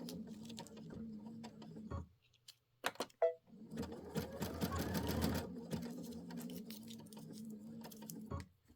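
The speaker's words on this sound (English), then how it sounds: "I'm going to sew down those last two butterflies" A sewing machine stitches appliqué butterflies in a steady, close mechanical hum, broken by a short stop with a few clicks and taps before resuming and running on.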